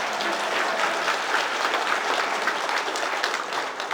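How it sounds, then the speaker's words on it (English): Applause fills the hall at a horror convention Q&A with Malcolm McDowell, a continuous even wash of many hands clapping, moderately loud and fading slightly at the end. "Yeah, and you can clap and go."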